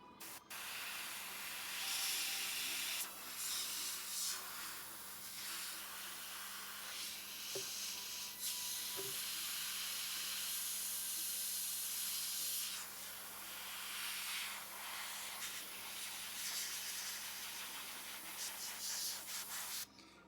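An airbrush spraying paint onto a miniature figure, a continuous soft hiss with slight surges and dips over a faint steady background hum, close and alone.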